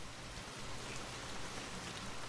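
Steady rain pours down as a soft, constant hiss of falling drops, used as a sound effect in a read-aloud children's story, with no voices.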